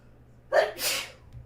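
A single sneeze bursts out close to the mic during a Magic Arena card game session, a sharp intake followed by a bright, noisy expulsion lasting under a second, with no talking over it.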